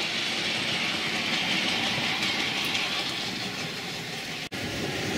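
A small train runs steadily along its track, a continuous whirring rumble with light rhythmic clatter, one brief dropout near the end.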